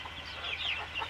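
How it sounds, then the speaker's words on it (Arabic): Chickens and small chicks cluck softly and chirp close by in a brief, continuous burst, with a few higher peeps rising above the low, steady farmyard murmur. "فراخ ويا حمام. فراخ كتاكيت صغننة على كله على بعض."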